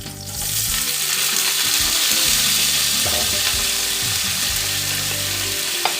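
Long-cut potatoes and eggplant fry in a pan with a steady, loud, dense sizzle that holds unbroken for about six seconds after a quick start, with no voices over it.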